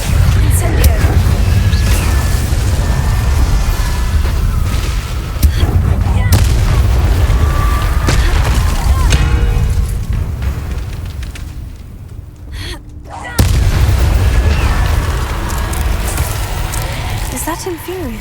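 Spell blasts and explosions from the video game Hogwarts Legacy boom and crackle almost nonstop in heavy bursts, easing briefly before a sharp new blast, with voices underneath.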